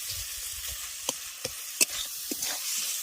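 Green tomatoes frying in a pan, a steady soft sizzle broken by a few sharp clicks of a spoon against the pan, close and alone with no voices.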